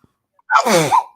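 One loud, close human sneeze bursts out after a moment of silence, with a quick intake and a forceful release that trails off.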